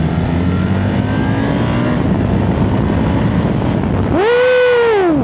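A BMW R1300RT motorcycle's boxer engine drones steadily, then a sudden sharp rev climbs and surges loudly as it accelerates hard in Dynamic Pro mode.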